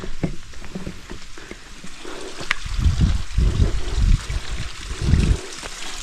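Water trickling and splashing in a stream on a mountain trail at Stone Mountain, with irregular gurgling bursts and low rushing, fairly close, no talk.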